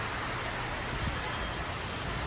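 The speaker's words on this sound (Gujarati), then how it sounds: "ભારે પવન સાથે વરસાદ કેવો પડ્યો" Dense, steady rain roars as a broad hiss with a blustery low rumble from a strong windstorm, constant and close, without any talking.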